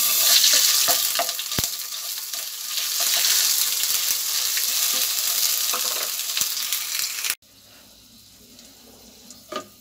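Garlic-ginger paste frying in hot oil while making baingan fry: a dense, loud, close sizzle that runs steadily for about seven seconds with a few sharp clinks, then cuts off and leaves a quiet room.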